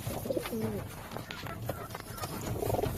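Pigeons coo in a coop, with several birds fighting in one corner; low repeated coos and soft scuffling continue steadily at close range.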